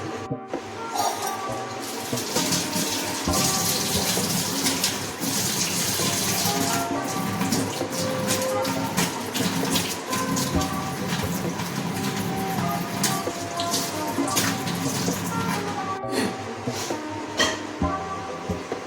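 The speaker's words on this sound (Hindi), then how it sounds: "उसके पहले मैं मुँह धो लेती हूँ" A tap runs steadily into a sink while someone washes their face, a continuous close splashing rush with occasional clinks and a brief pause before the flow resumes.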